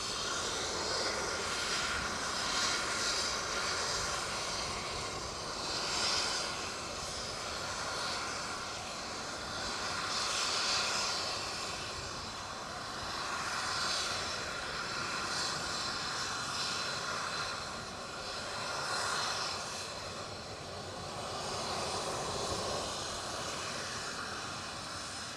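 A passenger airliner departing Edinburgh Airport for Copenhagen roars steadily for the whole stretch, a broad continuous engine rush with slow swells in loudness as it climbs away, heard alone without talk.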